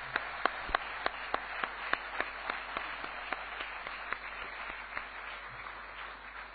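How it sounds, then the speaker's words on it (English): At a business school's annual day ceremony, an audience gives a round of applause. Scattered distinct claps stand out over a steady bed of crowd clapping that gradually thins and softens toward the end. "So a big round of applause"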